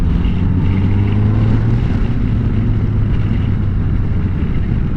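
A 2021 Honda Goldwing motorcycle leans into a corner, its engine a continuous close, loud hum with a faintly rising pitch, wrapped in heavy rushing wind noise throughout.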